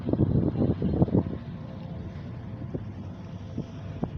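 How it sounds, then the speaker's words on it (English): Gusty wind on a city canal at night buffets the microphone in low rumbling bursts, strongest at first and then settling into a steady outdoor roar. "it's a windy night"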